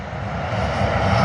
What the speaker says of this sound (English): I do see Hong Kong Airlines pushing back.